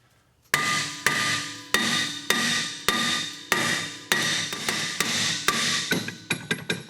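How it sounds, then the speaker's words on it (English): Hammer blows on the rear brake rotor hub of a Lexus RX ring out as about a dozen sharp metallic strikes, evenly spaced and then quicker near the end, loud and close with no talk. "strike this surface where my finger is. That is where you want to strike with your hammer"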